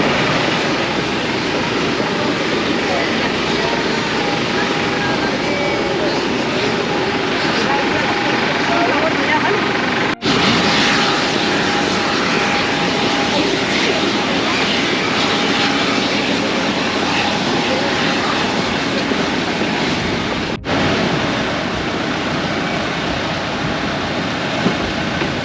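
TUI Boeing 737 MAX airliner engines give a constant loud roar and broadband rush throughout, heard close from inside or beside the aircraft with no break in the noise.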